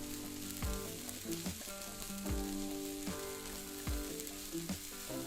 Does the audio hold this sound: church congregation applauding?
no